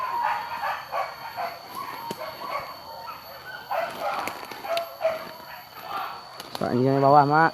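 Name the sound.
hunting dogs barking during wild boar hunt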